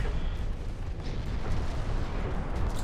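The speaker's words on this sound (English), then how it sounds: "Torpedo detonation here, that is very useful" Torpedo detonation in a naval warship battle in Ultimate Admiral Dreadnoughts, a dense, rumbling explosion that stays loud and continuous for a few seconds without a clear single onset.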